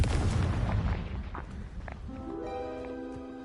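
A loud fiery blast from the Confringo spell in the video game Hogwarts Legacy booms up front, then a rumbling decay settles under a rising tonal game sound effect.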